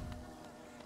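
Bees in the Hollow Knight video game give a faint, steady buzzing drone with small pulses, heard alone.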